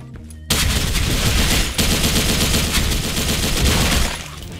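An RPK74 light machine gun with EOTech sight fires in the online shooter Special Force 2, delivering loud, dense sustained automatic bursts close up with a brief break in the middle, then trailing off near the end.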